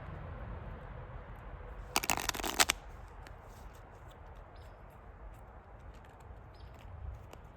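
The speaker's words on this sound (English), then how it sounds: "I'm not impressive at shuffling cards" A deck of playing cards being shuffled, a brief dense riffle of crisp papery flicks lasting under a second, close and clear over a quiet room hum, with no talking.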